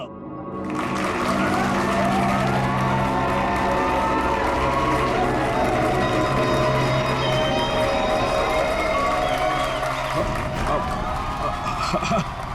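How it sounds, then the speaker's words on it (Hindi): Circus audience applauding and cheering in a big tent, a dense continuous crowd roar with clapping that holds steady for about ten seconds before easing slightly, with speech mixed in. "तालियां!"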